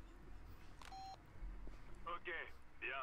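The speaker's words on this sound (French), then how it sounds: "Ah, téléphone." A telephone beeps inside the video game Far Cry 2, a short tone followed by a few chirping electronic rings, under steady background hum while someone speaks.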